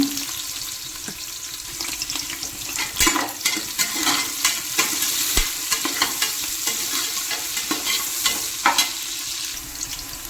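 Sliced onion fries in a pan with pepper, sizzling steadily under a spoon that scrapes and stirs with irregular clinks.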